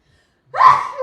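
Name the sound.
sneeze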